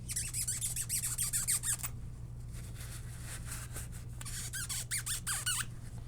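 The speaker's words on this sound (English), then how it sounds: "we'll just go all squeaky squeaky with this capstan" Repeated squeaks from a damp, acetone-moistened paper towel rubbed on the capstan of a Teac V-770 cassette deck, close and fairly loud in two bursts separated by a quieter pause, over a steady low hum.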